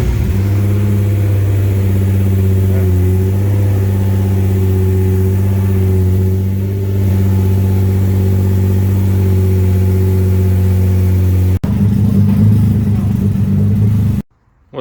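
A built twin turbo Nissan 350Z HR engine idles with a loud, steady low drone on its first start, then revs briefly before cutting out near the end.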